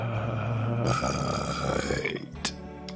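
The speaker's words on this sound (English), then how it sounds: "That's my belch tight. Tight belch." A man lets out a long, loud belch that rumbles for about two seconds, with some game music or sound playing in the background.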